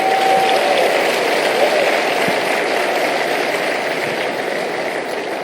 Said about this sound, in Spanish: Un aplauso al Señor por todos ellos.